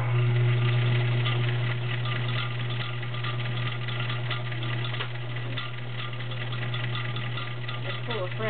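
A freshly serviced vintage Kenmore 1206 sewing machine stitches zigzag with a steady, close mechanical hum and a fast rattle of the needle, running continuously and fairly quietly with no talk over it.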